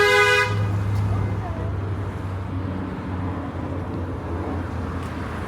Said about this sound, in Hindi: हॉर्न सुन के बड़ा अजीब सा लगता है यहाँ पर,